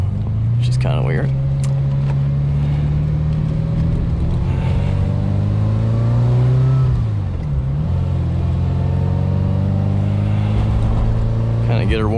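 A 1994 Ferrari 348 Spider engine drones loud and close while driving, its pitch climbing steadily through gear changes with brief dips between them, and a voice speaks over it.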